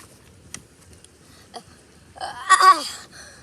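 A voice imitates a sneeze with a sharp, breathy burst after a few faint clicks and a quiet pause, spoken close and fairly loud.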